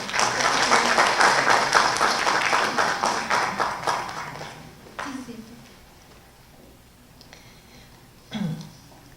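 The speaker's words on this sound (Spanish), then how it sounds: "Por favor, la recibimos con fuertes palmas." An audience at a judicial conference applauds to welcome a speaker, loud dense clapping that fades after about five seconds, followed by quieter room noise, a few scattered sounds and a brief voice.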